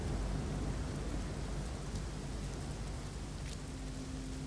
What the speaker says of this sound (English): Looks like this planet is almost always raining, but it doesn't have big storms all the time.